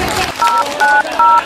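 Three short paired keypad tones from a cellphone beep in an even rhythm, loud and close, over background chatter and crowd noise at a resort game.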